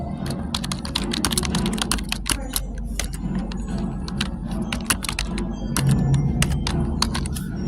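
Fingers type quickly on a computer keyboard nearby, producing a dense, irregular patter of sharp key clicks over a low room hum that runs for several seconds.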